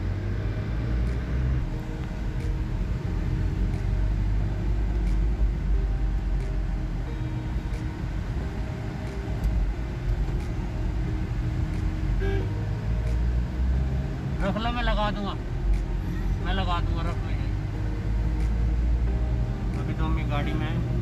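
A Toyota car is driving, heard from inside the cabin as a steady low engine and road rumble. It continues throughout and is joined near the end by voices and brief higher sounds.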